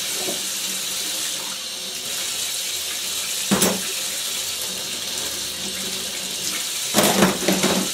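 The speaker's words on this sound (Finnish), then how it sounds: "Näin täällä vaan tiskaillaan ja huuhdellaan näitä astioita." Steady running tap water splashes into a sink, with a couple of brief louder clatters as dishes are rinsed under the stream.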